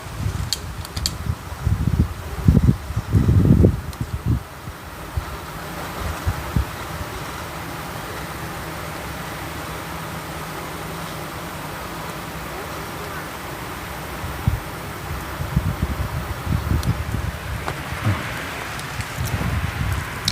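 Strong outdoor wind roars steadily against the microphone with rustling and buffeting, gusting harder at the start and again near the end, while voices are briefly heard.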